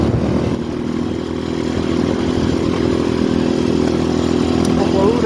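An RVM CZ 250T motorcycle from 2022, new and with under 1000 km, runs steadily with a loud, constant engine drone and rough clatter throughout, heard up close with a voice talking over it.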